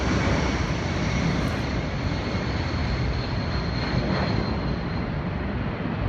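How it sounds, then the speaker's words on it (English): Low-flying planes at an air show in Australia pass close by with a loud, steady engine roar and broadband rush that fills the whole stretch without fading. "there was an air show in Australia where planes flew really close to buildings"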